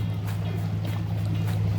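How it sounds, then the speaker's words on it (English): Low steady motorboat engine hum drones from across Lake Anna, with faint lapping and outdoor ambience, no voices. "People are riding their boats."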